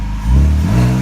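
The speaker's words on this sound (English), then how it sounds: "you're revving it too?" A BMW E46 ZHP with an Active Auto Works exhaust revs in a short, loud, close burst, a deep engine note that swells and holds for about a second.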